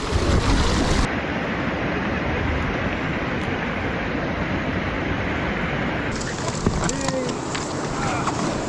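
Creek water rushes and churns around a packraft on Duckmalloy Creek at low flow. The roar is steady, close and broadband, with wind buffeting the microphone and faint voices in the background.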